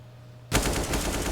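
Rapid automatic gunfire spray in the Counter-Strike video game, a loud burst of closely spaced shots starting abruptly after a quiet moment and rattling on steadily.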